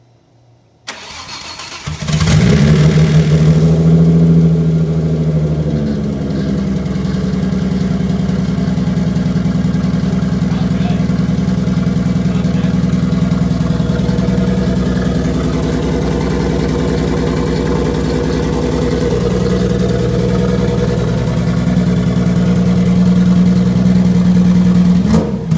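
Audi B5 S4 with a 2.7-litre single-turbo engine firing up for the first time: a sharp crank and catch, then a loud, steady, close-up idle rumbling throughout.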